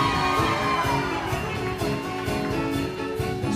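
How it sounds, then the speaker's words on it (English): A live audience at a New York event cheering, shouting and whooping after a couple is introduced, a dense, sustained crowd roar that stays loud throughout. "And one more round of applause for your new couple three."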